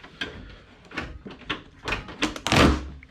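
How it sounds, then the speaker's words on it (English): A door on a Geo Tracker being opened, several close knocks and clunks of the handle and panel followed by a louder rattling swing, with no talking. "Let me actually open this door."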